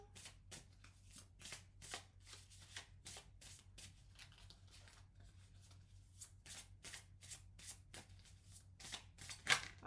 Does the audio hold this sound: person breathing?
no